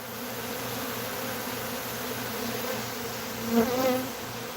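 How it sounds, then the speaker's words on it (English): Many bees buzz in a thick, continuous drone around an open feeder, with one insect briefly passing closer and louder near the end. "There's so many bees."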